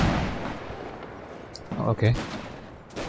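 Gunfire in Mount & Blade: With Fire & Sword multiplayer, a few sharp shots cracking out over a dense battle din, with a brief spoken reaction in between.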